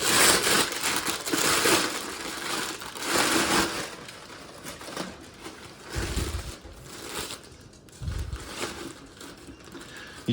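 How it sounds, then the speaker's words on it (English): A Darth Vader Black Series helmet (2022 edition) is unwrapped from its packaging, giving bursts of crinkling and rustling plastic that come and go in uneven waves, close and fairly loud, with no talking. "let's unwrap that bad boy"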